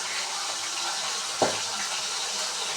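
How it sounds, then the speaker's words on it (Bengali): Salted sea fish frying in oil, a steady close hiss of sizzling with one sharp spatter pop partway through, no voices. "এই যে মাছ ভাজা হয়ে যাচ্ছে"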